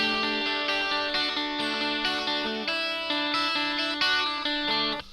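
Jangly 12-string electric guitar on the bridge pickup, run through delay, spring reverb and a Vox amp simulator, rings out a steady stream of bright, sustained picked notes with shimmering echoes, played alone.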